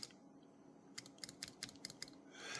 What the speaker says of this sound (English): you don't want the type bar rebounding like this